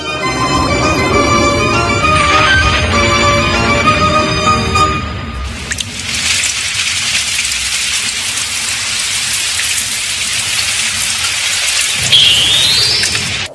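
Steady heavy rain pours down after a few seconds of music, a dense hiss filling the scene with a brief higher zing near the end.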